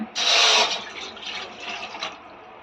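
Water pours briefly into a cup, a gushing splash followed by softer trickling as the flow tapers off.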